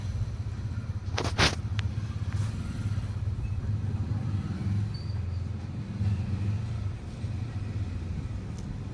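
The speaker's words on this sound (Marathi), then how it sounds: "स्टँडवर वळवली गाडी, पण काय स्लिपच मारती बघा किती." A vehicle turning at a bus stand with its wheels slipping gives a steady engine drone and a brief rough scrape near the start, lasting throughout at moderate loudness.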